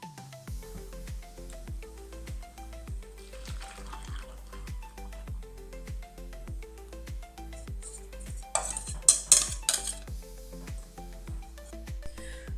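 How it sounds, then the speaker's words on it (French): A spoon stirs a thick chocolate flan mixture in a saucepan over low heat with soft repeated scrapes and clinks, some light bubbling, and a brief louder clatter near the end. "je remets sur feu doux et je vais faire cuire en remuant régulièrement"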